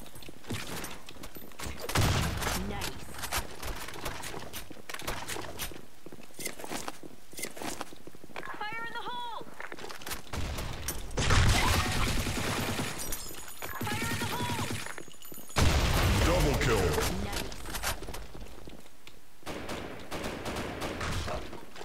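Gunfire in the Blackshot competitive shooter game sounds in repeated bursts, some long and rapid, some single, mixed with footsteps and other game effects, loud and close, with talk in places.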